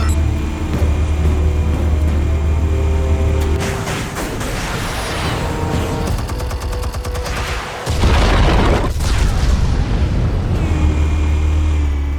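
Heavy explosions from a Batman video game boom and rumble through the whole stretch, with dense crackling blasts and a deep surge partway through, loud and sustained.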